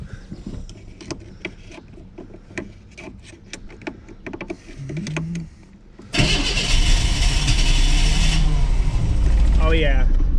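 A long-sitting 1989 Pontiac Firebird engine cranks in short uneven bursts, then catches at about six seconds and roars loudly and steadily, close up, with brief voices nearby.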